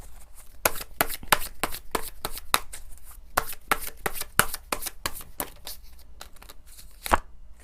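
A deck of tarot cards being shuffled close up in rapid, uneven bursts of crisp riffling and slapping, with short pauses between handfuls.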